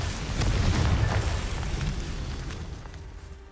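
A Confringo blasting spell explodes in Hogwarts Legacy, a dense low boom that starts loud and rolls off into a long rumbling decay, with no talk over it.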